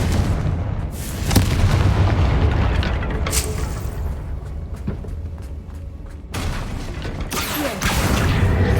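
Confringo blasting spell in Hogwarts Legacy, a series of booming explosive blasts with rumbling low impacts and crackling bursts, loud and close, with no speech over it.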